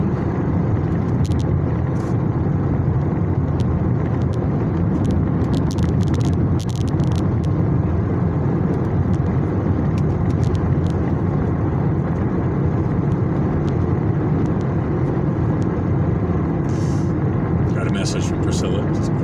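Steady broadband road rumble of a car being driven, continuous and fairly loud throughout, with a voice talking over it.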